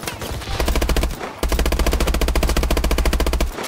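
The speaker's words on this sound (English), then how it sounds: "All those shots." Rapid automatic gunfire in Call of Duty Advanced Warfare, two long continuous bursts of fast, evenly spaced shots with a short gap between, loud and close.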